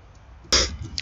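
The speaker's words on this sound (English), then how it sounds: "I did have to sneeze." A single sharp sneeze bursts out suddenly after a quiet moment, loud and close, followed by a short breathy tail.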